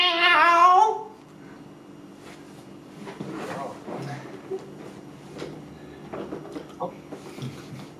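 A cat's meow rings out loud and close at the start, then gives way to quieter shuffling and soft clicks in an indoor room.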